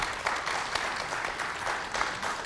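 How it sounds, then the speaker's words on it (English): A hall audience at an education leadership summit applauding the nation's teachers, a steady wash of many hands clapping at moderate volume throughout. "So I would request the hall to please applaud all the teachers in the country."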